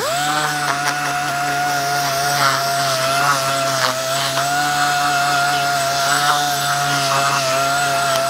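A power sander whines steadily at close range on barn wood for a mantel, its motor tone holding constant with gritty rubbing texture underneath throughout.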